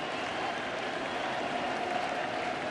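A dense, steady roar of a baseball stadium crowd at a World Series game between the Astros and Nationals, cheering to urge the pitcher on to an out, loud and continuous with no clear breaks.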